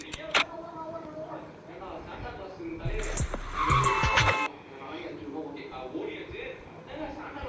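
Suzuki Hayabusa motorcycle engine in the Motor Tour 2024 video game, revving and roaring loudly in bursts with tire skids and game effects, while someone talks over it.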